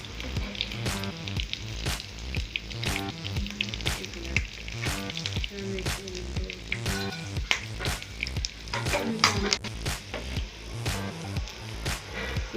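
Chicken and vegetable cutlets fry in a pan of oil with a steady, dense crackling sizzle and frequent sharp pops, fairly close and continuous throughout with no talking.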